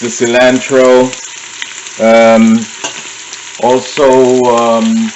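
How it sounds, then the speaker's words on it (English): Onions, garlic and cilantro frying as aromatics for a Guyanese pepperpot, a steady sizzle running under a person talking close by. "I'm going to fry up my aromatics. That's the onions, the garlics"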